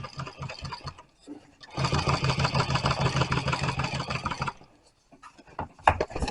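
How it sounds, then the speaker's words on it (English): A sewing machine stitching a zipper onto a marine upholstery enclosure runs in a steady, close, mechanical whir for about three seconds, framed by short start-and-stop bursts before and after. "Always be mindful of how you are sewing, how things are laid out."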